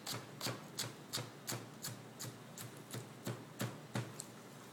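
A knife slicing through a doubled-up bunch of green onions on a cutting board, about a dozen crisp, evenly spaced chops at a steady rhythm, close and clear with no talking.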